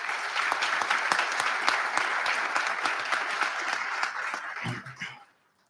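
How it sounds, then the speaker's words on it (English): Warm applause fills a school speech night hall, even and sustained for about five seconds before tapering off quickly into silence. "Can we give those people all a round of applause?"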